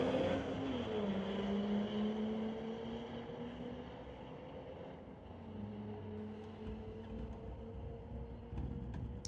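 Audi and Nissan cars in a street-legal drag race at Mission Raceway Park, engines droning steadily with a falling then rising pitch as they run down the strip, loud and continuous with no talk.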